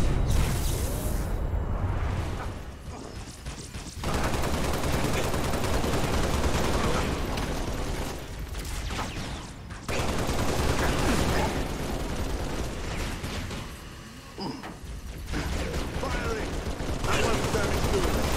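Dense gunfire and combat noise from the video game Halo Reach, with bursts of shots and mechanical clatter filling the whole stretch, dropping briefly twice, while a player talks over it.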